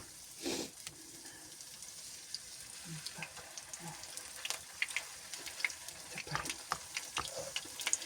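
Zucchini fritters fry quietly in a pan over medium heat, with scattered pops and a few scraping, stirring sounds over a soft, steady fry.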